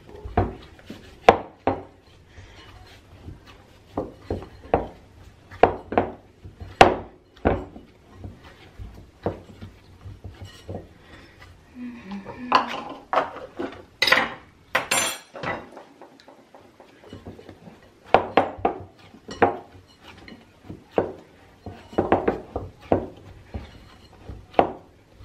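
Dough kneaded by hand inside a bowl, a run of irregular soft thumps and squelching rubs, close and fairly loud, with a short pause midway before the pushing resumes.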